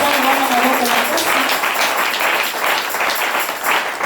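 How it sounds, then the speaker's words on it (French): A church congregation applauds loudly, steady dense clapping that holds for several seconds, with a faint voice briefly heard at the start. "Est-ce qu'on peut acclamer très fort?"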